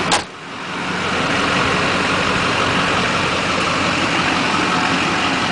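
Idling 2002 GMC Sierra 2500HD with the 6.6 liter Duramax turbo diesel and Allison transmission, a loud, steady close-up rumble after a brief click at the start.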